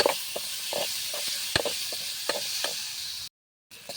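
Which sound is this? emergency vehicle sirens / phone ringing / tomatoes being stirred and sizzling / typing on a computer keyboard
tomatoes being stirred and sizzling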